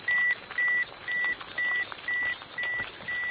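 A radiation detector beeps rapidly, alternating between two pitches, a steady regular pattern repeating throughout over faint background hiss.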